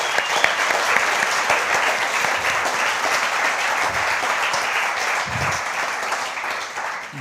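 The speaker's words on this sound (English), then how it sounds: "Can you give the guys up there a round of applause?" A conference audience applauds continuously, dense clapping from a large crowd that stays loud throughout with a slight fade at the end.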